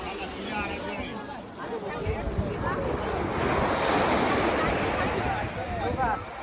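Ocean waves break on the shore at Somnath, a steady, loud wash of surf with wind buffeting the microphone. People's voices rise over the noise throughout.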